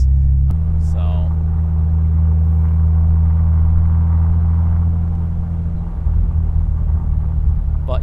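Manual transmission car engine droning at low RPM just above 1,000, a steady loud low rumble heard from inside the cabin with a slight shift in tone partway through, while a person talks over it.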